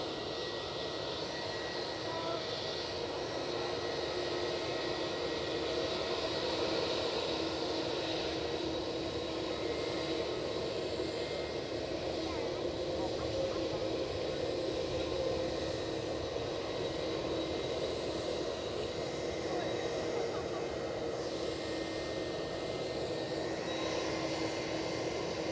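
A Ryanair jet airliner rolls for takeoff at Edinburgh airport, its engines a steady distant roar and whine that holds evenly throughout.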